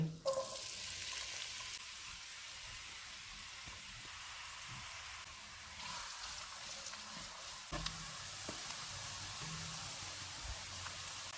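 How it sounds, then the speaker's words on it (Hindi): Steady, dense sizzle of onions frying in hot oil, continuous and close, with a few soft clinks and stirring bumps. "2 प्याज डालेंगे, इनको गोल्डन फ्राई करेंगे"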